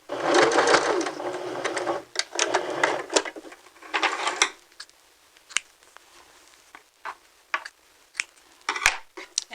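A sewing machine stitches a seam in fabric, starting with a dense, steady mechanical whir and then breaking into short bursts and isolated clicks as it backstitches. Close and fairly quiet, with no talking.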